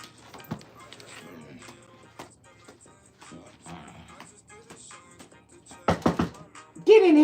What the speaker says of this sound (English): Quit barking at Austin